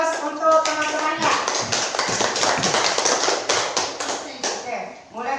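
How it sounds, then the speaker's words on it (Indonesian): Classmates applaud a presenting group in a classroom, a dense burst of many hands clapping continuously, mixed with voices and classroom chatter throughout. "Beri aplaus untuk teman-temannya."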